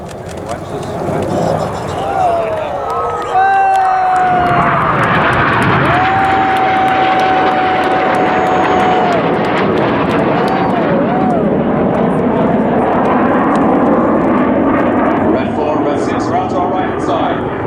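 RAF Red Arrows jets roar through an air display, a sustained loud broadband jet rumble with pitch sweeps as aircraft pass, under a commentator's steady amplified voice.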